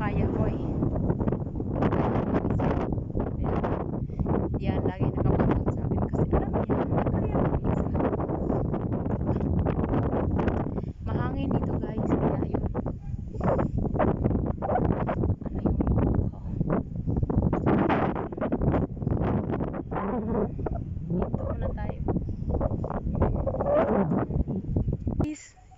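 Strong, gusty wind at Athugala Temple (Elephant Rock) in Kurunegala, Sri Lanka, buffets the microphone in loud continuous rushes, with a voice speaking intermittently underneath.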